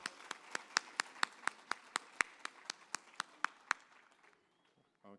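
Audience applause at a medical school white coat ceremony: a small crowd claps in steady, distinct near claps for about four seconds before fading out, with a brief faint sound at the end.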